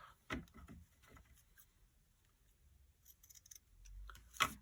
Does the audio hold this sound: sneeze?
no